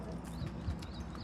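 A horse's hooves clip-clop on a village ride, heard faintly as a few soft, low hoof beats under a dull background.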